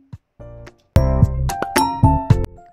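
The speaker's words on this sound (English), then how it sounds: "we're going to crack some 2 eggs into a bowl" Two eggs being cracked into a bowl for cinnamon French toast: a few short, sharp shell taps and clinks against the bowl's rim, spaced out over a couple of seconds, close and fairly loud.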